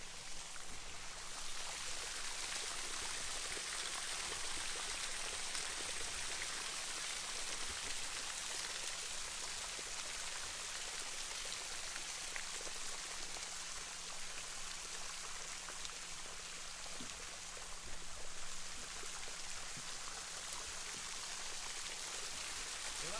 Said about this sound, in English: you get the effect of the waterfall coming out underneath.